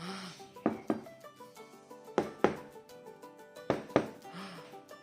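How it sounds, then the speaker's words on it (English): Knocking from inside a closed wardrobe comes as three paired thumps spaced about a second and a half apart, each double knock fairly close and distinct, over soft background music with no talking. "heard a strange knocking from the bedroom"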